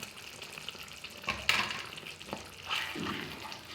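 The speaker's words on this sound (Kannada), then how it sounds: "ಈ ಟೊಮೊಟೊ ಈರುಳ್ಳಿ ಹಸಿ ಮೆಣಸಿನ್ಕಾಯಿ ಇದೆಲ್ಲ ಹಸಿ ಸ್ಮೆಲ್ ಹೋಗೋರ್ದು ಸಣ್ಣ ಉರಿಯಲ್ಲೇ ಫ್ರೈ ಮಾಡಿ" Tomato, onion, green chilli, garam masala and coriander powder frying over a low flame for a fenugreek-leaf mutton fry, a steady close sizzle broken by a few sharp stirring scrapes and clatters.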